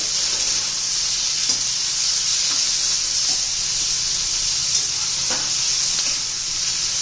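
Tomatoes sizzle and fry in a hot pan, a loud, steady hiss running throughout with faint scrapes of stirring.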